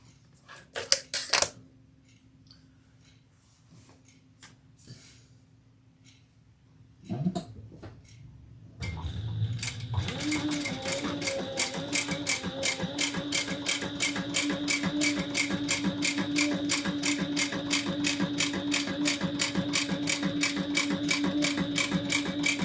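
A sewing machine stitches a row on a leather messenger bag, a fast, even run of needle strikes that goes on steadily for over ten seconds after a few quiet handling clicks and a short burst of start-up noise.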